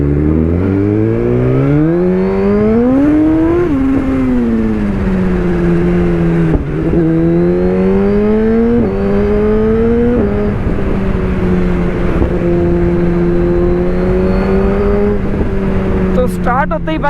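A motorbike engine revs and accelerates hard while riding through traffic, loud and close, pitch repeatedly climbing and dropping as the rider shifts and throttles.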